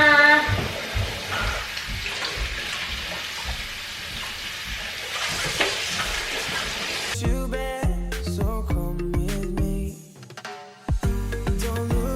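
Tap water runs steadily while groceries and fruit, including bananas, are washed, a close, continuous splashing hiss for about seven seconds before music takes over.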